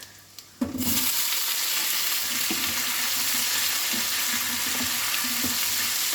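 Square-cut pineapple pieces dropped into a hot pan with ginger set off a sudden loud sizzle that holds steady, with occasional soft stirring scrapes and taps.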